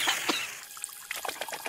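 Cartoon water poured out for drinking, a light trickling splash with a short gap in the middle before bubbly dribbling sounds return, with no talk.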